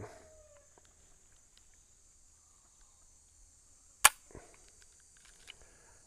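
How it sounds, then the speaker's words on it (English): A single sharp mechanical click from the trigger of an empty Winchester 53 rifle in 25-20 WCF breaking during a trigger pull test, loud and close against a near-silent background with a faint hiss. "Let's see what the trigger pull is on it."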